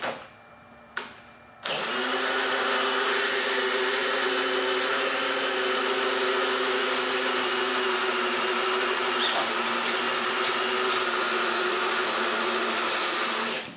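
DeWalt Atomic DCD708 and Milwaukee M12 Fuel compact drill-drivers driving, a short burst and then a loud, steady motor whine that holds near and unbroken for about twelve seconds.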